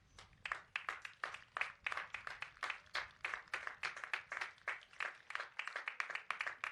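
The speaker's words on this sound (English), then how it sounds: "give them a round of applause for thanks" Steady applause from a commencement ceremony crowd, many hands clapping in a continuous rhythmic patter that holds at the same level throughout.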